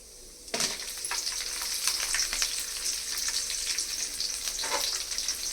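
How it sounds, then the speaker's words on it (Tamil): Green chillies drop into hot oil with a sudden loud crackle, then sizzle and spit steadily for several seconds, with scattered sharper pops and stirring. "இப்போ இது கூட பச்சை மிளகாய் போட்டுடலாம்"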